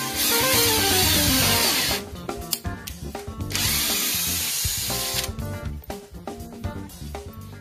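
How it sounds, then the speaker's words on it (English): Power drill pre-drilling holes and driving screws into the top of a wooden door for a sliding barn door installation: a loud sustained whir, then stop-start bursts of motor spin and ratcheting, up close with no talking. "After you pre-drill the holes, run the screws in and back out again."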